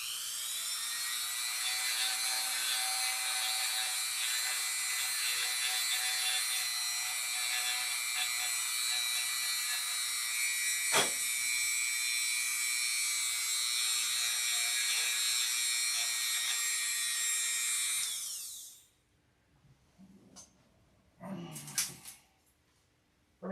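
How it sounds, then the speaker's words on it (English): Disc sander grinding a homemade denture mold: a loud, steady high-pitched whine holds for about eighteen seconds, then cuts off, followed by a few faint scraping and handling noises. "I'm gonna need to sand these on the disc sander"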